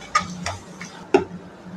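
Spices being stirred into paneer butter masala in a pan: a few distinct scraping strokes of a spoon against the pan over a faint sizzle, close and moderately loud.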